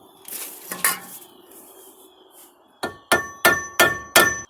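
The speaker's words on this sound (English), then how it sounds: "Notice I'm using a claw hammer" A claw hammer strikes metal five times in a steady rhythm during a vehicle front end rebuild, sharp ringing clanks following some softer scraping and clinking.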